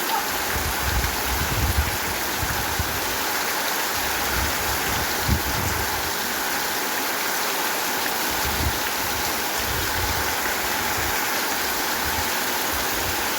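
Heavy outdoor rain in gusty wind, a loud continuous broadband hiss with rumbling low swells, steady throughout with no voices.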